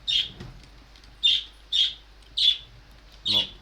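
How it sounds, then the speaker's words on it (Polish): Five sharp, high chirps from parrots come at uneven intervals, close and clear against a quiet background. "te papugi mi nie dają spokoju, więc niestety przepraszam, że one tak świerkają"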